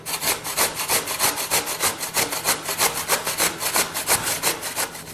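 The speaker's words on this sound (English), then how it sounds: "take the potatoes, well washed, and grate it" Washed potatoes are grated by hand, a loud rhythmic rasping of even back-and-forth strokes, about five per second, close and continuous with no voices.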